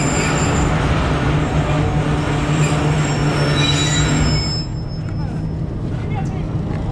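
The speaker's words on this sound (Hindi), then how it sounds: "ट्रेन सनामा से चलने वाली है" Mehar Express train at Sanama station gives a loud, steady rumble with high squealing wheel tones, then drops to a quieter, rougher rolling rumble partway through.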